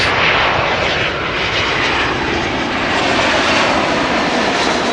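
A Qatar Airways airliner arriving at Amsterdam Schiphol, its engines a loud, continuous roar filling the whole stretch at close range, with no voices.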